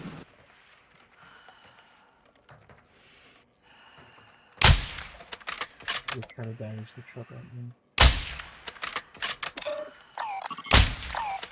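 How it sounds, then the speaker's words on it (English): Bursts of gunfire in the Call of Duty DMZ video game, several loud volleys with sharp cracks and rattling automatic fire, mixed with game effects while players talk over it. "There's hell gunfire over here."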